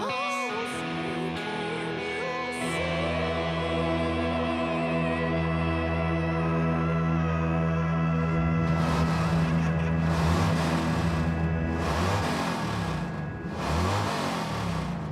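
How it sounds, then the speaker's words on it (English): A car engine hums and revs steadily with a deep, even growl, close by, swelling in a few louder rushes toward the end. "That's the sound of a motor purring."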